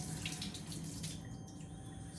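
Water runs steadily from a tap onto a teapot about to be drilled, a quiet continuous trickle with no talking.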